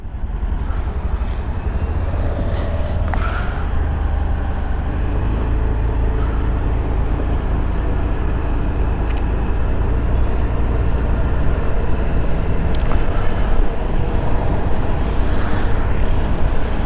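Scooty ridden on a highway road, a steady, loud rumble of engine and wind noise with passing traffic, continuous throughout with a few faint clicks.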